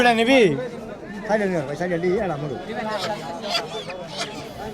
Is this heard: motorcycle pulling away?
no